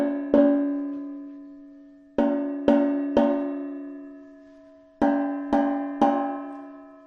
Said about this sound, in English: This is how the little metal bells will sound in Iceland.